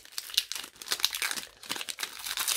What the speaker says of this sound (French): Je vais éviter de parler pendant que j'ouvre le booster.